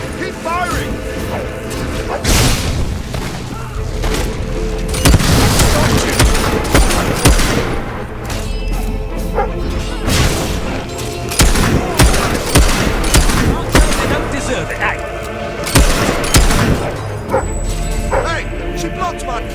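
Gunfire in Fable III, with repeated sharp bursts and volleys in a dense, loud battle mix, interleaved with shouting voices and busy combat noise throughout.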